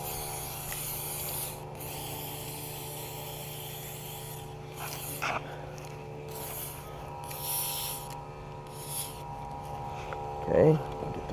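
Silicone spray hisses from an aerosol can onto a nitro RC car during cleaning, several short and long bursts at close range, with a brief knock near the end.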